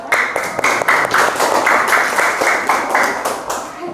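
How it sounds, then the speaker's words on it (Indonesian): Classroom applause during a school lesson, a group of students clapping together in quick, loud, fairly rhythmic bursts, close by and continuous for the whole stretch. "Tepuk tangan."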